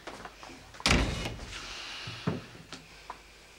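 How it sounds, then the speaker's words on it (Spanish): A door swung shut indoors, landing as one solid thud with a short rattle, followed by softer bumps and clicks of the latch settling, close and alone. "Cierra la puerta."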